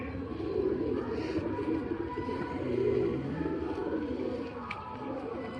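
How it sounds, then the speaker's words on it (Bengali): A Kalanka Madras male pigeon with a closed tail coos in low, rolling phrases, fairly close, over a soft background murmur. "ভালো কোয়ালিটির একটা কালাঙ্কা ম্যাড্রাস নর পায়রা"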